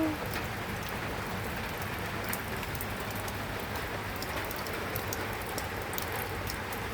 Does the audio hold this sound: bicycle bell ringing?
no